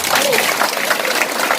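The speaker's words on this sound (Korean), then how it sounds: "그런 의미에서 박수 한번 드립니다." An audience claps at a Korean political party event, a dense, loud wash of clapping that runs steadily through the moment without letting up.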